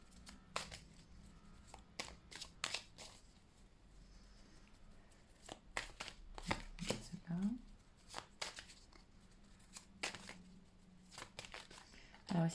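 Tarot cards are shuffled in short, crisp riffles and slaps, with cards dropping one at a time in soft flicks, close and quiet, while someone talks softly between them.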